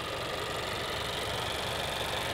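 The 2.4-liter engine of a 2016 Acura ILX A-Spec idles in a steady, close, even hum with a faint mechanical ticking and no talking.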